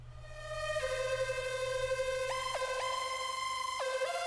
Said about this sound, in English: I used a big club lead patch from Thor to get this sound.